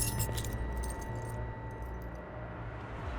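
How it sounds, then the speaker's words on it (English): A bunch of keys jangles sharply and close as it is snatched from a hand, a quick metallic rattle at the start that settles into a low background hum. "swiped Trent's keys out of his hand"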